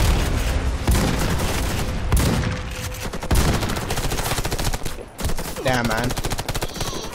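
Rapid automatic gunfire in the Warface shooter game, dense sustained bursts of shots with several weapons firing together at close range; someone speaks briefly over the shooting.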